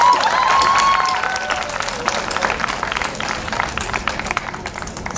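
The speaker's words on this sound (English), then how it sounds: "you deserve another round of applause for this" Audience applause after a dance performance at a fashion college inauguration, dense steady clapping throughout with a brief whistle-like tone at the start.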